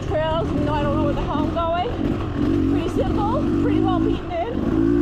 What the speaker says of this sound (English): my bike is too herky-jerky in second gear and too sloppy in third gear